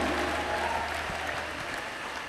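A church congregation applauds and ululates during a sermon, producing a dense, steady wash of clapping that stays close and loud for about two seconds.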